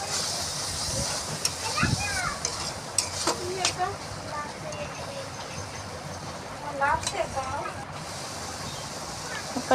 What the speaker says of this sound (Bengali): পরিমাণ মতো লঙ্কার গুঁড়ো দিয়ে এবার মশলাটাকে একটু কষিয়ে নিচ্ছি